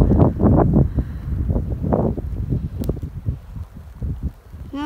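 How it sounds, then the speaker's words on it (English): Heavy wind gusting beside a lake in a snowstorm, roaring and buffeting the microphone in uneven close surges. "Oh, and here comes the wind."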